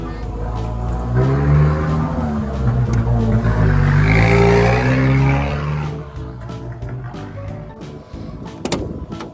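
A large crane truck's diesel engine runs steadily and loud up close, building slightly then easing off, with a child and adult climbing aboard; a brief knock near the end.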